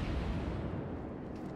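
Battleship New Mexico's main guns firing in a naval warfare game: a dense, continuous low rumble of distant heavy artillery, steady and muffled throughout without distinct individual reports.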